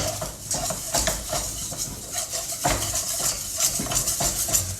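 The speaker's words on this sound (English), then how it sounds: "I'm going to add the plain flour, all-purpose flour, and just keep that moving, keep it whisking." A whisk scrapes and rattles steadily against a pan as plain flour is stirred into butter over low heat, with a faint sizzle underneath.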